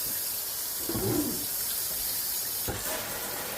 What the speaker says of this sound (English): I'm going to run warm water.